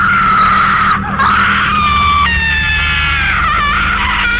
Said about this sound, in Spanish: Era un grito fuerte, era un grito que se metía profundamente, en mis huesos.